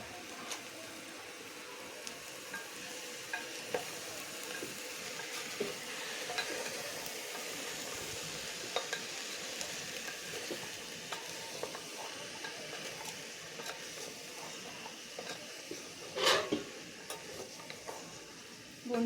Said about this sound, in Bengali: ততক্ষণে সবজিটা একটু 2 মিনিট ধরে আমি ভেজে নেব।